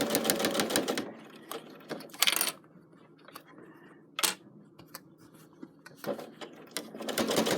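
A sewing machine stitches the side of a zippy pouch, with bursts of rapid mechanical stitching, short pauses and faint handling clicks between runs.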